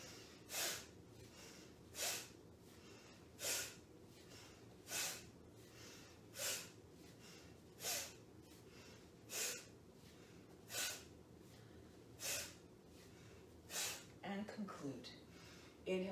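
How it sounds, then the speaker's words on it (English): Vigorous yoga breathing during a Dharma Yoga class, a steady rhythm of about eleven sharp, forceful nasal breaths spaced just over a second apart, close and unbroken over low room noise. "Energize the body, oxygenate the blood with a vigorous breathing. Strong inhales, strong exhales."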